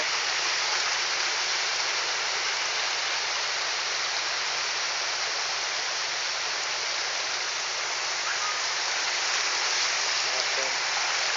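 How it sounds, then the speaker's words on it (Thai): Rapid floodwater rushes across a washed-out road in Thailand, a loud, steady, unbroken roar of flowing water filling the whole stretch. "แต่เห็นว่าน้ำไหลเชี่ยวมาก"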